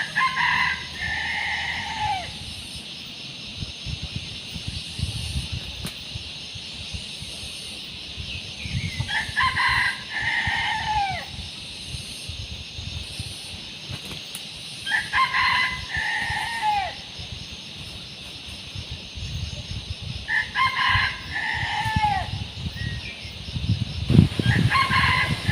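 A rooster crows four times at regular intervals. The crows sound moderately near and carry over steady outdoor farmyard background noise, with other fowl and livestock faintly present.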